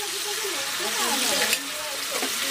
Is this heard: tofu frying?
yes